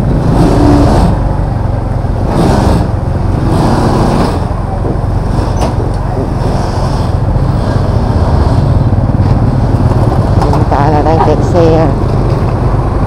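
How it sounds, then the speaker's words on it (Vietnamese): Dense traffic jam of cars and motorbikes on a narrow street by Binh Tay market in District 5, Saigon, with steady loud engine drone, occasional revving and horns, close by. "Đường hẹp mà nó xuống hàng đó, kẹt xe luôn, kẹt cứng nhắc luôn."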